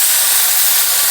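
Buttermilk hits hot tempering oil of mustard seeds, cumin and asafoetida, producing a loud, close, continuous steamy hiss with no pauses.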